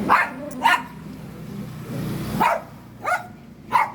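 Sharp dog barks ring out in short bursts, two early and three more spaced a little apart later, fairly close over a low background hum.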